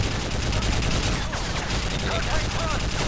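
Sustained automatic gunfire rattles loudly through a Call of Duty MW3 mission, dense overlapping bursts with game sound effects and a player's voice talking over them.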